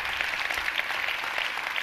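At the Future Day talk, an audience applauds in a brief, dense, even wash of clapping that continues without a break.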